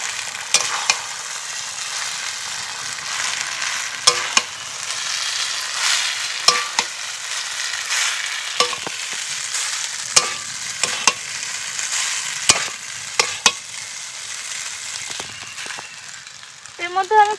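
Boiled chowmein tossed with spices in a frying pan gives a steady close sizzle, broken by sharp, irregular clacks of a utensil scraping and stirring against the pan.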